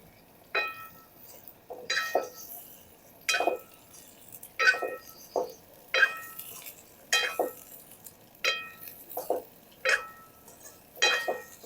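Ridge gourd is stirred with garlic in a pan, producing repeated metallic scrapes and clinks of a spatula against the vessel in a steady rhythm, close and distinct, with light sizzling beneath.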